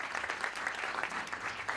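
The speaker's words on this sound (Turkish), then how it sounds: "Bir alkış lütfen Neil için." Sustained applause from an audience at a live talk event, a dense even patter of clapping filling the room without a break, with no talking over it.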